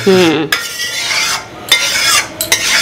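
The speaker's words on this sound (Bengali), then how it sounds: "জিরে তেজপাতা শুকনো লঙ্কা দিয়ে এক সম্বরা দিয়ে বসিয়ে দিচ্ছি মাংসর মতো।" Cumin seeds, a bay leaf and dry chillies are tempered in hot oil for a rohu fish-head curry, giving a loud, close sizzle with a few sharp stirring scrapes and bursts of spitting.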